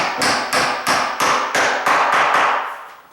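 A door hinge pin tapped back into its hinge with about eight evenly spaced hammer strikes, close and fairly loud, each a sharp knock with a brief metallic ring and no voices.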